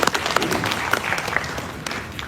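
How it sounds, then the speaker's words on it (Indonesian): A crowd gives warm applause for a volunteer academy at a rally, a continuous patter of many hands with a few louder individual claps near the start, fairly close and steady throughout. "Boleh kasih tepuk tangan buat Akademi Relawan"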